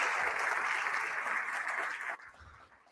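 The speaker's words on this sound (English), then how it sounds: "Let's give her another round of applause." At a lecture, the audience gives a round of applause, a dense wash of clapping that cuts off sharply after about two seconds into quiet room sound.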